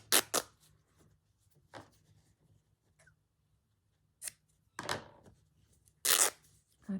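Scissors snip through linen craft material for a Christmas tag, several quiet crisp cuts spaced irregularly in a still room, ending with a louder snip.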